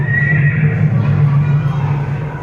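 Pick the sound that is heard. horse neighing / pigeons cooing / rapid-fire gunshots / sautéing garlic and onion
horse neighing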